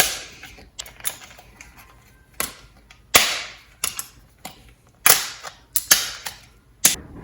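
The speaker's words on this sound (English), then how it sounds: "you're just going to break them and then put them in these little pieces" Dry lasagna noodles are snapped into small pieces for soup, a series of sharp, crisp cracks at irregular intervals, close and fairly loud, with quiet gaps between breaks.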